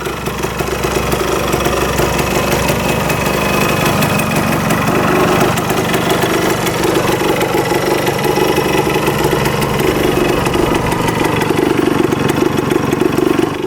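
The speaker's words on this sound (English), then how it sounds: "looks like the gas tank vent is working pretty good, revving out good." A $100 two-stroke motorcycle, recently fixed so its gas tank vent works, revs hard and steadily without a break for the whole stretch, loud and close, with no one talking over it.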